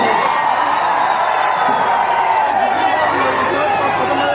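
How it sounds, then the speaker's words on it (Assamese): A large outdoor crowd at a Bihu festival function claps and cheers loudly, a dense continuous roar of hands and shouts with whoops mixed in, sustained evenly throughout. "জুবিন গাৰ্গৰ কাৰণে এবাৰ চোৰদাৰ হাত চাপৰি বজাই দিওঁ"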